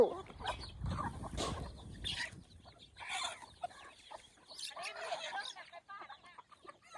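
Wild junglefowl give a series of clucks and throaty calls outdoors in the countryside, irregular bursts at close to moderate range amid quiet surroundings, with some voices now and then.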